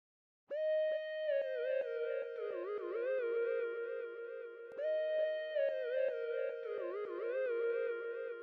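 Lead synth melody from the Purity plugin in an amapiano remake of a song: a bright, sustained tone gliding between notes in a repeating phrase, moderately quiet and alone with no voices.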